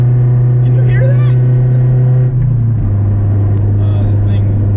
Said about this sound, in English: This thing's got a Jay's Racing exhaust